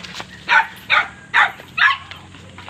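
A dog barks four times at an even pace. The barks are sharp and fairly close, with quiet gaps between them.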